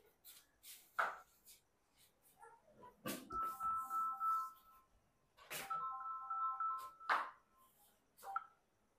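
A telephone ringtone chirps in repeated short electronic bursts, fairly faint, with rustling and handling noises between the rings.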